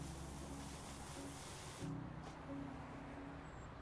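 A video game power washer sprays foam as a loud, steady broadband hiss that cuts off partway and then resumes more softly.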